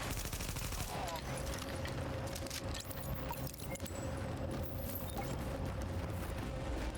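A turret fires in the video game The Division. Rapid, rattling bursts of gunfire run continuously and loudly through the clip, mixed with dense game noise.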